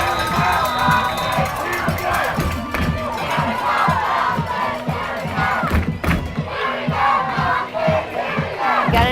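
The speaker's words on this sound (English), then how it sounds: "Listen to the crowd." A large crowd roars and cheers continuously at a 2019 women's tackle football game, Pittsburgh Passion versus DC Divas, late in the fourth quarter. The dense, loud crowd noise stays steady throughout with scattered whoops and thuds.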